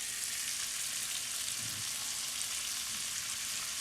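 Ground lamb sears and browns in a hot pan with a dense, even, close sizzle that runs steadily without pause, alone with no voices.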